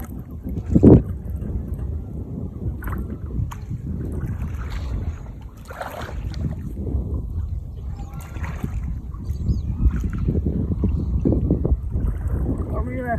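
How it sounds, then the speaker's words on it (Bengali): Small wooden boat rowed one-handed across water, with steady splashing and wind noise running throughout, under scattered talk from people aboard. "আমি এক হাতে ডুঙ্গা চালাচ্ছি আর সামনে যাচ্ছি।"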